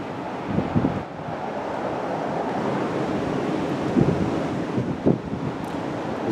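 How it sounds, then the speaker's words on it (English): A nor'easter storm drives waves and wind across a flooded wharf with a partially submerged lighthouse, loud continuous roaring wind buffeting with occasional surging crashes of surf. "This is a very unusual storm."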